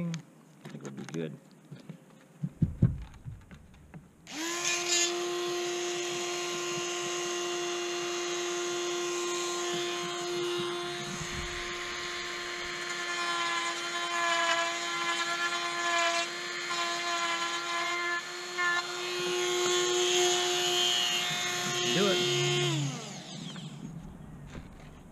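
A few handling clicks, then a power sander starts and runs continuously with a steady high whine for nearly twenty seconds before winding down, smoothing a plastic coolant tank cover on a C5 Corvette.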